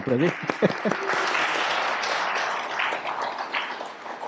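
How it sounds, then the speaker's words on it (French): Congregation applauding at a baptism service, steady dense clapping that fills the room for several seconds after a brief voice at the start. "On va l'applaudir"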